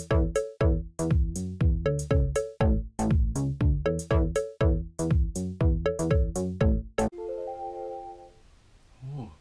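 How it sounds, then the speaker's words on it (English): A rapid run of bright, plucked-sounding tones from an iPhone, about a dozen sharp notes in a quick rhythmic pattern, followed by a softer sustained chime as an eBay app notification plays alone near the device. "An eBay notification."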